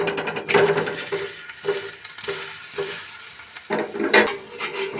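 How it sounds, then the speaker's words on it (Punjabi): Makki methi roti is pressed and roasted in ghee on a griddle, giving a close sizzle broken by repeated scraping and pressing strokes at an uneven rhythm. "ਘਿਓ ਲਗਾ ਕੇ ਰੋਟੀ ਨੂੰ ਚੰਗੀ ਤਰ੍ਹਾਂ ਅਸੀਂ ਰਾੜ ਕੇ ਸੇਕਾਂਗੇ"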